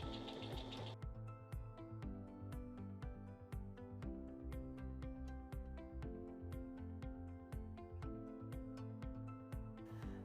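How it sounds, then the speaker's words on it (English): A Brother BQ950 sewing and quilting machine runs a decorative stitch, its needle ticking in a steady, fast rhythm with brief shifts in pattern as the stitch forms, close and clear with no talking. "So when I press start now and I start sewing now"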